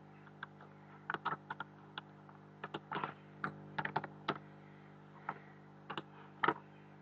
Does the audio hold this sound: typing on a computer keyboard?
yes